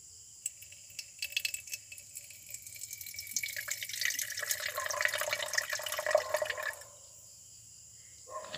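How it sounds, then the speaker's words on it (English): Hydrochloric acid poured into a glass beaker holding gold for aqua regia refining, a steady liquid stream that builds over several seconds and then stops, with faint drips and a small splash near the end; no one talks. "So let's add 100 ml hydrochloric acid."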